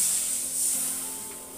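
Water hits hot fried spice paste for a fish curry with a sharp, loud sizzle and hiss that peaks early, then eases off into a steady, softer bubbling fizz.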